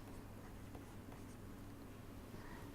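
Steady writing strokes of a pen or chalk laying out solution steps during a predicate logic lecture, a quiet continuous scratching with no talk over it.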